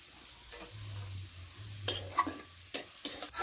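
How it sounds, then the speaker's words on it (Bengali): Sliced onions fry in oil for egg biryani, a soft sizzle under sharp, irregular scrapes and clacks of a spoon stirring in the pan, close and fairly loud. "আমাদের বেরেস্তাটা প্রায় ভাজা হয়ে এসছে, লাল লাল হয়ে গেছে পেঁয়াজগুলো"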